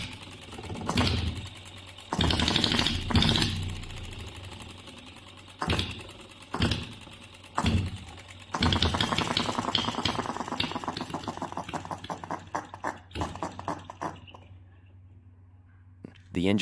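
A small OKMO B02 Stirling engine gives bursts of rapid mechanical knocking broken by pauses, then a long steady run of fast ticking that slows and fades out as the engine stops; a voice talks over it.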